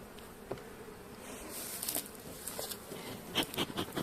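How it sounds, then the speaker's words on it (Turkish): Caucasian honey bees buzz around an opened hive after winter, soft close wingbeats passing in brief bursts over a quiet background. "Polen toplayan arıları çok seviyorum ben"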